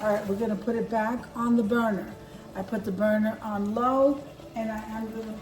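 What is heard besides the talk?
None of the usual background noises is heard.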